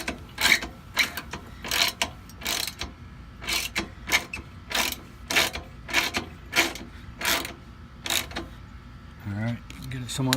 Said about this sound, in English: go ahead and tighten it up with your ratchet